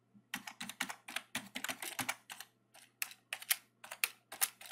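Someone types an email address and password on a computer keyboard. The key clicks come in quick, irregular bursts with short pauses between them. The sound is close but quiet and is heard on its own.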